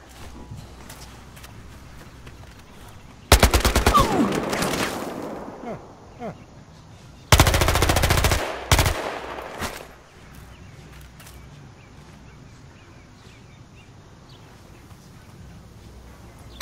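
Gunfire in Battlefield Hardline, two loud bursts of rapid shots a few seconds apart, standing out over quieter game ambience.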